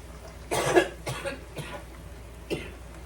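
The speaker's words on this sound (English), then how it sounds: "Y'all have to excuse my coughing and all that stuff." A person in a kitchen coughs several times in quick succession, a louder first cough followed by fainter ones and a final cough after a short gap, close and without talk.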